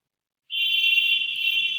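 An electronic alarm abruptly starts and holds a single steady, piercing high-pitched tone, loud and continuous with no pauses, close to the listener.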